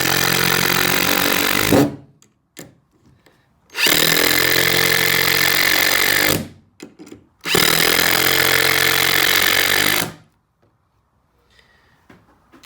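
A Hart impact driver sinks three screws into pre-drilled pilot holes, giving three loud, sustained rattling bursts of about two to three seconds each, separated by short quiet pauses.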